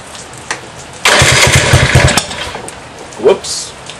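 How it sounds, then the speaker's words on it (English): A GY6 139QMB scooter engine cranks and catches at close range, a burst of rapid firing pulses that settles briefly before fading, with a short clatter near the end. "Then you start your scooter up."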